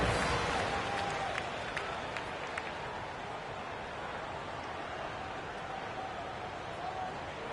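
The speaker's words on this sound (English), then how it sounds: "One more round of applause for your performers." Crowd applause fills a basketball arena at a G League game, a broad, steady wash of clapping and crowd noise that stays level throughout without spoken words.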